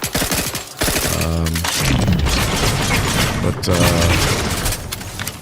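Weapon fire in The Outer Worlds 2 gameplay, loud bursts and rapid mechanical shots overlapping continuously with game sound and a voice talking over it.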